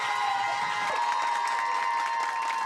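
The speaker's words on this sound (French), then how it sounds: "Notre invité, vous pouvez l'applaudir très fort" A studio audience applauds and cheers as a singer is welcomed on stage, a dense burst of clapping and shouts with a sustained tone running through it, steady and fairly loud.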